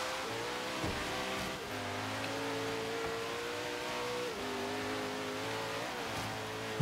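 Koenigsegg Agera engine in Forza Horizon 3 held at quarter throttle, a steady loud harmonic drone with rising pitch sweeps and two brief dips as gears change, no talk over it.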